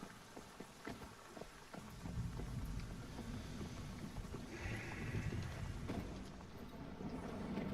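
Rain falling in the Once Human survival game, a steady, soft patter and hiss of drops with a low rumbling bed, continuous throughout.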